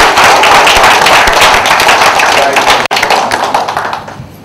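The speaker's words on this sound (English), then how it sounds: "Just please give Cyrus a round of applause" A book launch audience breaks into loud, sustained applause, dense clapping close by that holds steady and then tapers off toward the end.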